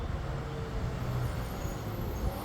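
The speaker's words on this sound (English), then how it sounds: "Sorry, the garbage truck." A garbage truck passing on a residential street, a continuous low engine rumble and roadway noise with a brief hiss like air brakes, fairly close and steady without talk.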